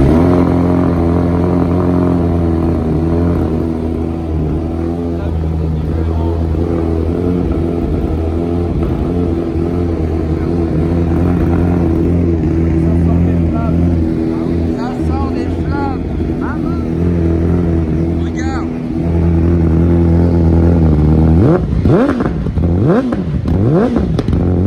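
A new motorcycle idles steadily with a deep, continuous engine drone, then revs sharply in rising and falling bursts near the end, with people talking over it.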